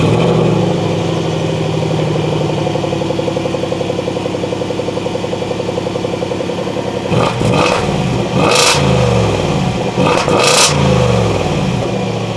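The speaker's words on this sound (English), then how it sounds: "since it's the V8, it's got a rather nice exhaust note." A Range Rover Sport with a supercharged V8 idles loudly through its exhaust, then revs sharply twice near the end, each rise and fall plainly heard, with no talking.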